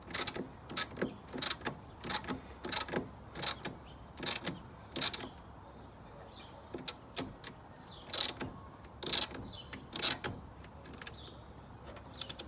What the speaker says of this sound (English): This particular one is a 13mm socket, and you're just gonna tighten it down.